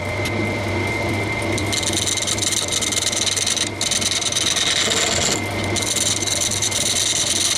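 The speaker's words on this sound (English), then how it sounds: "a sanding disc on the lathe will do the job just as well" Glued wood segments are pressed against a sanding disc spinning on a lathe, making a loud, steady abrasive rasp over the motor's hum, with a brief break near the middle, and no voices.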